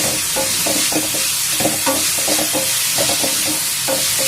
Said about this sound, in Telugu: ముందుగా అయితే ఉల్లిపాయలు, పచ్చిమిరపకాయలు వేసి అది కొంచెం ఎర్రగా వేయాలి